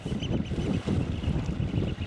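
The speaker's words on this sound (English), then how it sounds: "that wind's not half got up" Wind buffets the microphone at sea from a kayak off Anglesey, a rough low-pitched rumble surging in gusts, loud and close, with no voices.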